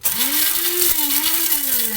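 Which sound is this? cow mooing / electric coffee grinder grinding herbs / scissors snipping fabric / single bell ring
electric coffee grinder grinding herbs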